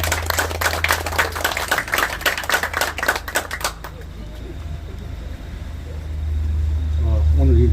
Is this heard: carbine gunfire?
no